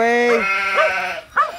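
Sheep bleat loudly and close by while a Pumi dog herds them toward a winter paddock, three wavering calls in quick succession.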